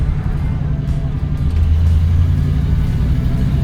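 A 1990 GMC Jimmy 4x4 with a 5.7 EFI V8, lift and 33-inch tires, driving with a steady loud low engine rumble and road noise, the drone swelling slightly as it goes, with no talking.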